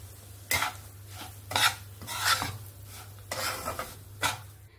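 Semolina is stirred and fried in a pan for halwa, with a spoon scraping the pan in about six separate strokes over a low steady hum and no talk.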